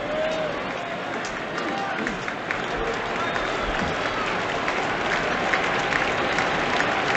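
Baseball crowd at a Brewers home game against the Reds, a steady wash of cheering and applause building through the stands with play-by-play talk running underneath.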